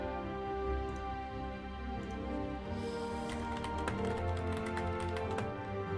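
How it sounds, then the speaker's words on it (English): Computer keyboard typing in short bursts of close clicks under steady background music, with no talking. "Sorry, you're gonna hear my keyboard again."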